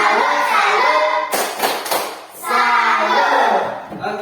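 A school class clapping along to the 'tepuk salut' clap chant: a short burst of quick, close claps in the middle, with a voice chanting before and after.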